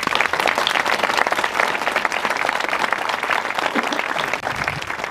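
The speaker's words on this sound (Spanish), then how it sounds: "y este aplauso es para vosotros otra vez" Sustained applause from an audience at a memorial tribute to victims of Francoism at a Madrid cemetery, dense and steady throughout with no voices over it.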